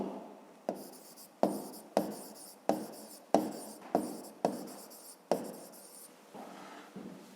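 A pen writes numbers by hand for a fifth-grade maths exercise in Ukrainian, leaving about ten sharp, separate strokes, each fading quickly, at a steady pace close to the listener.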